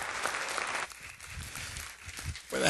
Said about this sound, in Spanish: denle un aplauso a nuestros actores